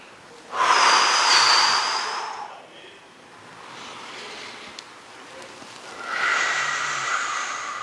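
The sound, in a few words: breathing during a movement exercise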